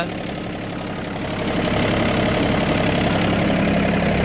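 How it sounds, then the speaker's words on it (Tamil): A VST 932DI 30 hp diesel tractor engine idles with a steady, low rumbling chug that swells slightly in loudness after the first second, then holds constant. "இன்ஜின்லாம் சவுண்டு ரொம்ப கம்மியாக இருக்குங்க"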